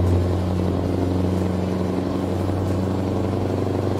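A heavy truck's engine drones low and steady as it labors uphill in snow in Euro Truck Simulator 2, a continuous rumbling hum with no talk over it.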